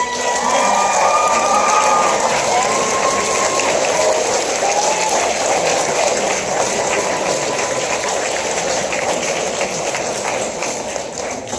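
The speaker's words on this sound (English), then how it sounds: "Kids, let's give these people a round of applause" Loud sustained applause from a room of students honoring their parents at a school event, dense clapping with some cheering and a faint whistle-like tone early on, tapering slightly toward the end.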